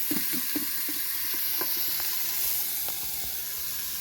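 Onions sauté in hot oil inside an Instant Pot, a steady close sizzle broken by light clicks and stirring taps.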